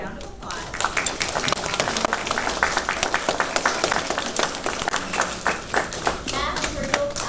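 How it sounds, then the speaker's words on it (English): A classroom of children claps for a student, a lively, uneven burst of many small hands clapping nearby, continuing steadily with scattered taps and faint voices beneath. "can we give Denise a round of applause?"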